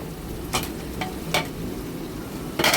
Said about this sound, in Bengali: এইভাবে কষিয়ে আলুটাকে একটু ভেজে নিলাম